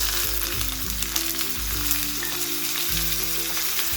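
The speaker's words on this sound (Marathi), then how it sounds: "पॅन मध्ये मी थोडं तेल टाकून घेतलं आहे, त्यामध्ये आपण टाकणार आहोत कांदा," Sliced onion fries in a little oil in a pan with a steady, loud, close sizzle and crackle that carries on without a break, with no voices.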